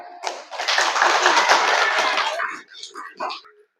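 Children and adults at a seminar for Islamic boarding school students clap their hands in a short, loud burst lasting about two seconds, with a few fading claps and murmuring voices afterward.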